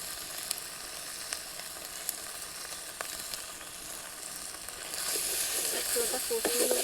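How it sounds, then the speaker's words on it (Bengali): Rohu fish kalia spices with salt and turmeric sizzle quietly in a hot pan, with a soft, steady frying hiss that grows louder and busier near the end as stirring begins. "ওটা কষিয়ে নেবো।"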